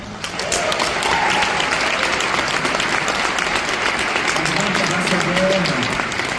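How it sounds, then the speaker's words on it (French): Sustained audience applause fills a Quebec film screening event, steady and dense throughout, greeting a Berlinale jury prize for Philippe Lesage's Comme le feu (Who by Fire). "Je pense qu'on peut même l'applaudir pour ça."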